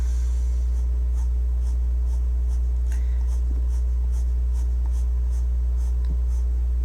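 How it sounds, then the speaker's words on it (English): A colored pencil draws on paper while being rolled slightly to keep its point, giving a steady, close scratchy rasp with soft repeated strokes over a constant low hum. "I am rolling my pencil slightly to kind of keep a point"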